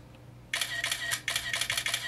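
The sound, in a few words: iPad camera shutter sound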